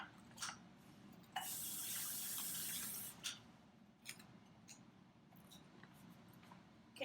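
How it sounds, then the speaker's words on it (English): Hands rinsed under a running kitchen tap while cooking balsamic chicken: a close, loud burst of gushing water lasting about two seconds, framed by small drips, clinks and splashes at the sink. "So I'm going to rinse my hands off"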